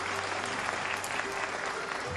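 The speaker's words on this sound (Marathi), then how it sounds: "जोरदार टाळ्या वाजवल्या पाहिजेत" Sustained applause from an audience at a Maharashtra government agricultural awards ceremony, a dense steady clatter of many hands filling the whole stretch without pause.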